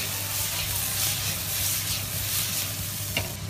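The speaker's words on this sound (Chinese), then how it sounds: "加食盐，少量的白糖，继续翻炒入味" Asparagus and shrimp stir-fried in a hot wok with salt and a little sugar, a steady loud sizzle with scraping and tossing of the spatula running throughout, close and continuous, under faint speech.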